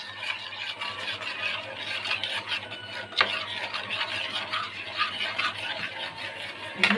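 Sweet bread batter being beaten or whisked in a bowl in a home kitchen, a steady scraping, stirring rasp with quick repeated strokes, fairly close, alone without talk.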